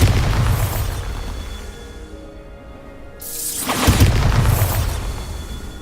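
Bombarda explosion spell in Hogwarts Legacy, two loud booming blasts with a crackling burst and debris, the first fading into a short quiet gap before a second heavier explosion that rumbles and decays.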